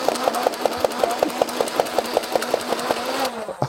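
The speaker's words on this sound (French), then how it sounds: "Je vais lancer les moteurs et je vais vider le chargeur." A Nerf Elite Rapidstrike XD blaster with its motors running fires darts in a rapid, steady rattle of about twenty sharp clicks over a constant motor whine, emptying the magazine before it abruptly cuts off.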